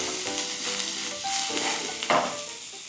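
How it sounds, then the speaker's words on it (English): Mushrooms and onions frying in butter in a pan, a close, lively sizzle with stirring and scraping strokes, one sharper scrape just after the two-second mark. "Gonna reduce the size of those mushrooms, get them caramelized a little bit."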